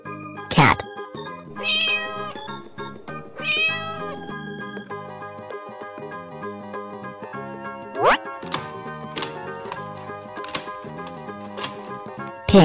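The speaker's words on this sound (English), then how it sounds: "Cat." A cartoon cat in a children's animal video meows twice, clear and close, over bouncy plucked music, with a few snappy sound effects later.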